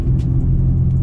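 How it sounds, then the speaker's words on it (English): The engine and Chevy Performance sports exhaust of a Chevrolet ZR2 truck during an off-road drive give a loud, steady low rumble throughout the brief moment, with no talk. "if you buy this truck, you're getting a really, really good sounding exhaust"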